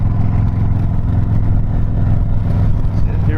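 A 2017 Harley-Davidson Softail Deluxe motorcycle cruises along a road, its V-twin engine giving a loud, steady, close low rumble with a slight rise in revs near the end.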